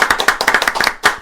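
A few people clap in a podcast studio, hosts and a couple of guests, a quick, close burst of sharp, slightly uneven hand claps lasting about a second, with no talking over it.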